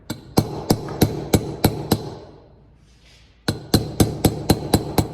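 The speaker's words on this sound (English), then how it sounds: "I like to use the old race to pound the new one in" A hammer strikes an old bearing race to drive a new race into place, producing a quick series of sharp metallic blows, then a brief pause, then another rapid run of evenly spaced, close, loud hits.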